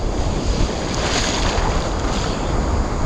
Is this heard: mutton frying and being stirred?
no